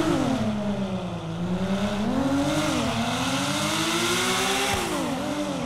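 A Porsche 911 engine in GTA 5 revs continuously with a loud, close, rising and falling whine as the throttle swells and eases, with a faint tire squeal near the end.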